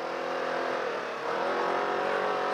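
A Polaris RZR RS1 off-road vehicle cruises through the desert, its engine a loud, steady, continuous drone that holds level with only a slight dip and rise midway and no voices.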